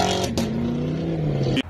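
A loud Chevrolet Camaro SS engine drones close by at a steady pitch, with brief revving bursts at the start and near the end.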